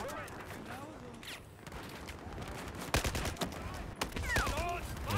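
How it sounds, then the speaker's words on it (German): Gunfire in Battlefield 4, scattered shots and bursts with a couple of louder sharp reports, mixed with game effects and other battle noise. "Schießt, was eure Kanonen halten."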